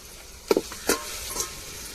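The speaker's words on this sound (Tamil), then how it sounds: "இஞ்சி பூண்டு இப்போ பச்சை மிளகா சேர்த்துக்கிறோங்க" Ginger-garlic paste and green chillies fry in a hot pan while being stirred, giving a few short scraping sizzle bursts over a low, steady background hiss.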